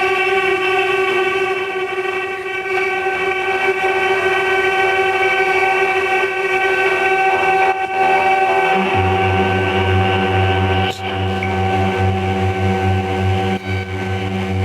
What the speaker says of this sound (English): Like the filter oscillate with noise that gets fed into the resonator.